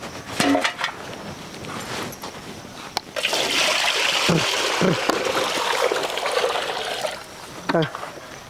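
Water pours and splashes as it is given to a thirsty animal, a steady close trickle running for several seconds, with people talking over parts of it.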